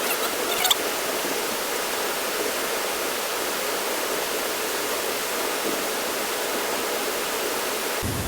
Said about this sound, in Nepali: अब यता हामी खोलाको नजिक पुग्यौँ